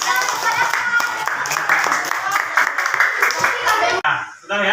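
Children in a classroom clap their hands together in a quick, ragged burst, loud and close, with young voices and chuckles mixed in before it breaks off abruptly near the end.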